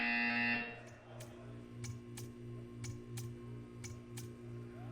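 Buzzer in the video game Portal 2, a loud harsh tone that cuts off after a moment, followed by a steady low hum with rhythmic soft ticks and pulses.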